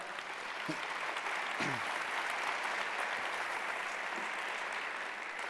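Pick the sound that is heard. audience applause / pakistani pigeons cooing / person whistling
audience applause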